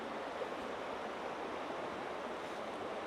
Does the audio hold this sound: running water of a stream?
yes